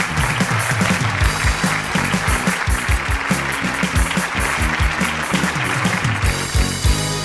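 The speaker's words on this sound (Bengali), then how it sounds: "একটা জোরে হাততালি হোক।" Loud studio audience applause and cheering at a Bengali comedy show taping, a dense sustained clapping crowd filling the whole stretch, with rhythmic thumping underneath.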